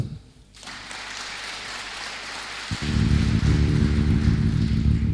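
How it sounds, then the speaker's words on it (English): A workshop audience breaks into a broad, hissing wash of applause that swells in, with a heavy low rumble of sound joining partway through and continuing under it. "Can we do a better clap?"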